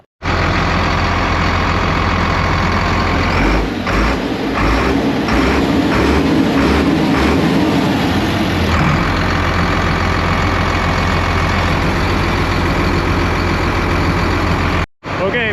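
A Gleaner combine's diesel engine rumbles loudly and steadily after an injector pump swap, with a rhythmic pulsing stretch early on and continuous mechanical roar throughout, briefly cutting out near the end.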